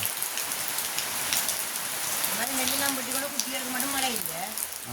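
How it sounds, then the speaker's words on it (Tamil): Steady, dense patter of rain falling on a surface, close and continuous, with a voice speaking over it partway through. "பாருங்க மழை பெய்யுது"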